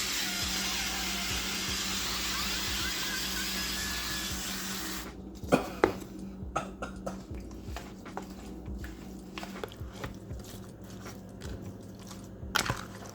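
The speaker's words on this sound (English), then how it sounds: "I'm gonna use this Bertolli extra virgin olive oil spray" A steady hissing spray of Bertolli extra virgin olive oil runs for several seconds, followed by quieter clinks and handling sounds nearby.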